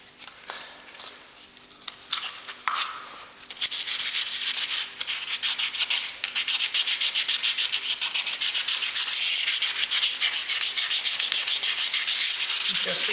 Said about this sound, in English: Try to sand this hand wheel a little bit.